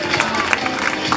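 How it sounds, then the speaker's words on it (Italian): Continuous applause from the crowd at a beauty contest, a dense, steady patter of clapping that holds at an even level throughout. "le mani continuano ad applaudire"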